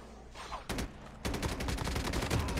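Bursts of gunfire from the video game Call of Duty Mobile, starting sparse and then turning into a dense, continuous rattle of shots filling the clip, loud and close, with no talking.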